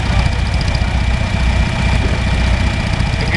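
Vintage wiggle-pole tractor in a parade, its engine idling with a loud, steady low chugging throb close by, with no talk over it.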